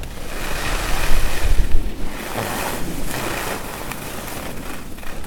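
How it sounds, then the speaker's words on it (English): Strong wind sweeps up a ski mountain at Bansko, roaring loudly against the microphone in rushing gusts that swell early on, then settle into a continuous blustery buffeting. "Oh, still strong wind coming up the mountain."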